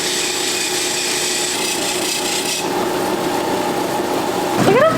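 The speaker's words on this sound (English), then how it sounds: "We roughly cut the shape out, then went through many rounds of grinding and polishing before arriving at our final product." Jade stone being ground and polished in a workshop in Antigua, Guatemala, a steady abrasive rasping that runs throughout, with a rising whine near the end.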